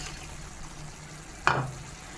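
Fish dropped into a hot pan of fried spices and raw tomato, giving one sudden loud sizzle that flares up and then settles into a quieter frying hiss, heard close.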